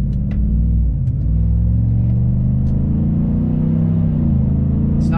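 A new truck rides on loud mud-grip tires, and its transmission whines inside a heavy, steady low rumble that stays continuous throughout, with no speech.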